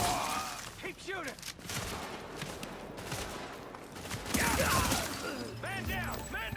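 Gunfire in the video game The Division comes in quick bursts and scattered shots at moderate loudness, with voices in the background.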